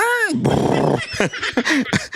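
A dog's rough, rumbling growl, used as a sound effect, lasts under a second, and a person then talks over quieter background sounds.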